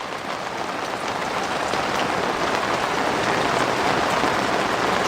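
Steady heavy rain falls outdoors at a house exterior on Sanibel, with water draining into a bucket, a constant close hiss of drops on surfaces with no talk.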